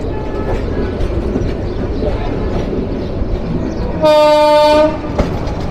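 The Balaka Commuter passenger train rumbles past close by with continuous rolling noise, then sounds a loud, sustained horn blast for nearly a second near the end before the rumble resumes.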